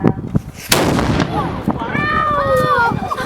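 Cannon and gun fired at Fort Nelson, a loud sharp blast with a booming report and echoing rumble that rolls on, followed by a crowd reacting with shouts and voices over the fading echo.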